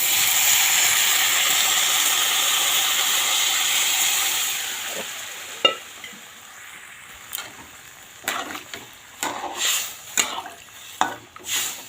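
Water poured into frying ghugni in a hot pan sends up a loud rushing hiss of steam that fades after a few seconds, followed by scattered sizzles and clatters of stirring.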